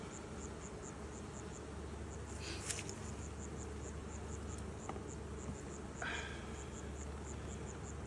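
Honeybees at a hive entrance being smoked give a steady, soft buzzing hum, with a faint repeating ticking and a few brief knocks over it.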